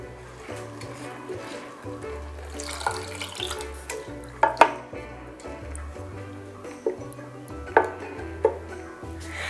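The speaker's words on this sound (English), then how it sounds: "we're going to top it up with a bit of water" Water pours from a tap into a pot of rice being made for Malaysian chicken nasi biryani, a steady running stream with a few clinks of the pot, fairly quiet and close.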